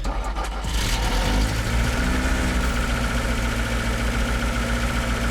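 Lada Zhiguli car engine idling as it warms up, a steady, close, low-pitched running drone that holds evenly throughout with no voices.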